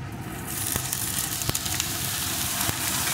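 Eggplant pieces hit hot oil in a pan with fried onion and potato, a steady broad sizzle swelling after a quieter start, with a few sharp clicks of spatula or pieces landing.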